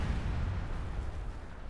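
Battle din from the World in Conflict strategy game during a Soviet assault: a dense, steady rumble of artillery fire and explosions, loud and continuous with no clear separate blasts.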